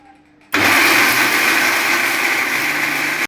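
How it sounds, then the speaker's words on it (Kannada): A mixer grinder switches on abruptly after a brief quiet moment, then whirs loudly and steadily as it blends coconut. "ನಾನು ಮಿಕ್ಸಿಗೆ ಹಾಕಿ ನಿಮ್ಗೆ ಹಾಲು ಮಾಡೋದು ಹೆಂಗಂತ ತೋರಿಸ್ತೀನಿ"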